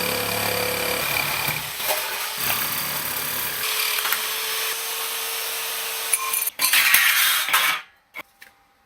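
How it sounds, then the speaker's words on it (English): Electronic shears run steadily while cutting material, a continuous close buzzing and rasping that goes on for several seconds, swells louder near the end and then stops abruptly, leaving a few small clicks. "now I use my electronic shears to cut this out"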